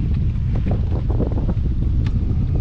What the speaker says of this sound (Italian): in questa zona batte troppo vento, veramente non riesco a fare il video